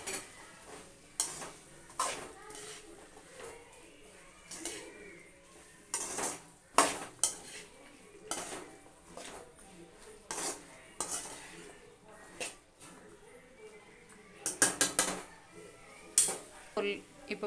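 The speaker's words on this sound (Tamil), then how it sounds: "சும்மா இப்படி கலரி விட்டுக்கோங்க." Broad beans (avarakkai) stirred in a home kitchen pan, with clinks and scrapes of a utensil against metal coming in irregular bursts, close by, over a low background and no talk.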